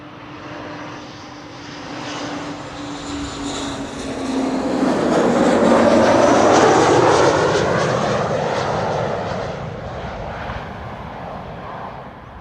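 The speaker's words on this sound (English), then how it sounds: "This is KLM flight 982, arriving from London City in Embraer 190." A KLM Embraer 190 airliner arrives at Amsterdam Schiphol from London City. Its jet roar swells steadily to a loud peak midway, then slowly recedes, with no talk over it.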